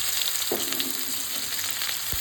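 Chopped onions fry in hot oil for a stuffed pointed gourd dish, making a constant soft sizzle with a couple of light utensil clicks, close and without voices.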